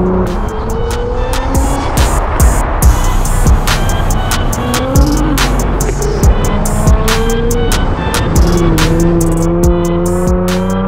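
A Nissan GT-R driven hard, engine revving loudly up and down through gears with repeated tire squeals, close and continuous.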